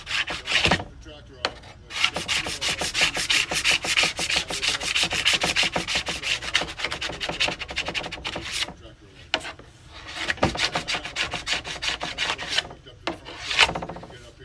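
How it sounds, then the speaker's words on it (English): Wax is scraped off a surface in rapid rough rasping strokes, loud and close, with brief pauses between bursts of scraping. "scrape all that wax off"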